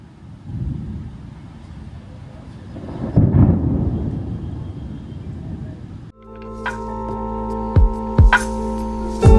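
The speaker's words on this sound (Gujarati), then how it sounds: "જો સામે થઈ વીજળી" Thunder rumbles from lightning during heavy rain in Surat, a low rolling boom that swells in the middle. The sound then cuts to a different recording with steady engine hum and tonal sweeps.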